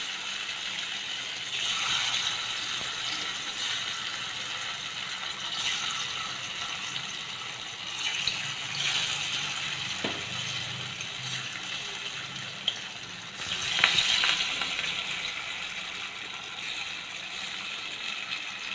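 Bitter gourd slices, soaked beforehand, fry in hot oil in a pan, giving a steady hiss and sizzle that swells and fades across the clip, with a few brief spatters and no talking.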